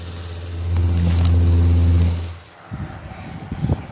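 Close-up of a Sang 12-inch rotating grille box fan on medium: a loud, low, steady motor hum with airy whoosh for about two seconds, then it cuts out, leaving light clicks and handling knocks.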